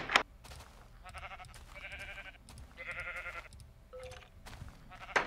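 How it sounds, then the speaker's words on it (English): Sheep in the Minecraft video game bleat several times in quick succession, clear and fairly close, amid scattered game sound effects. "We got sheep? What the heck?"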